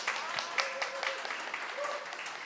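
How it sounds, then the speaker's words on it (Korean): At a gender-equality roundtable, the audience gives a presenter moderate applause, a somewhat distant and uneven patter of clapping hands with a faint voice or tone threaded through it. "마음껏 박수 쳐주셔도 됩니다"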